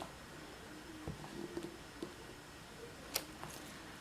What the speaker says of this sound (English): We're going to hand cut this section out.